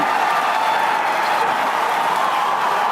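A large crowd watching a rocket launch roars and applauds in a dense, continuous wash of noise, loud and sustained throughout.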